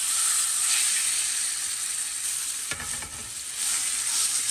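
Boiled banana flower drops into hot mustard oil tempered with a dried red chilli and nigella seeds, giving a loud, steady sizzle and crackle that dips briefly, then swells again as it fries.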